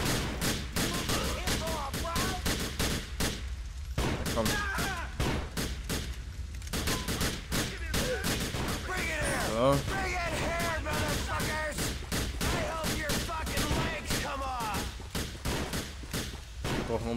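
Rapid pistol fire in GTA IV: The Lost and Damned, loud bursts of shots cracking almost without pause throughout, with a voice talking over the gunfire.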